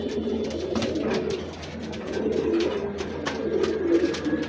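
A male pigeon coos in low, steady rolling calls close by, repeated over a faint background murmur, with nobody speaking.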